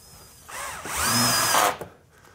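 Power drill driving fine-threaded drywall screws into metal resilient channels, a rising whirring burst of about a second that winds down abruptly, close and fairly loud with quiet room tone around it.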